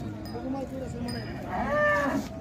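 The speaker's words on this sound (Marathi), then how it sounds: "ही एक खिलर गाय आहे" A Khillar cow at a livestock market in Sangola moos once, a loud drawn-out bellow rising near the end, over a steady murmur of crowd noise and distant voices.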